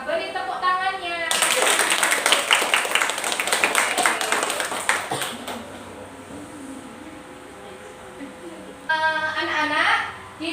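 Classroom of students clapping their hands together in a guidance lesson, a dense burst of applause lasting several seconds that fades, with a teacher and children talking before and after.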